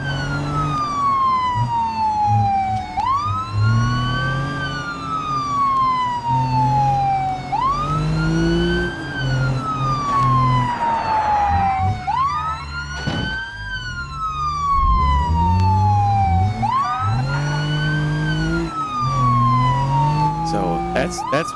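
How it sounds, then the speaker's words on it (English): A police car siren in the BeamNG driving game wails in repeated rising and falling sweeps, loud and near, over engine rumble, with someone talking intermittently. "It's doing the sirens automatically."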